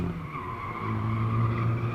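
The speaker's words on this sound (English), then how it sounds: "These front-wheel drive, you can hear them wheel spinning up the hill." A front-wheel drive rally car spins its wheels climbing a hill on the Mt Lofty stage: a loud, rising engine note with tire squeal and skidding builds steadily over two seconds, with no talk.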